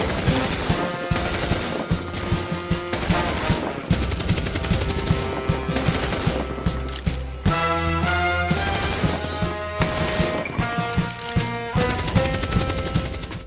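A war film battle scene fills with dense, continuous gunfire and machine-gun bursts, punctuated by crashing impacts and explosions, loud and chaotic throughout with no talk.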